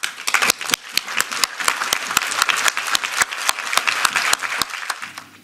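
An audience bursts into sustained applause at the close of a lawyer's speech about the Tempi case, with many dense, crisp claps that continue steadily for several seconds and then thin out at the end.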